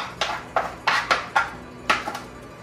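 Mastic-honey-glazed pretzels set one by one onto a cookie sheet, making about seven light, close clacks and taps at an uneven pace, with no talking.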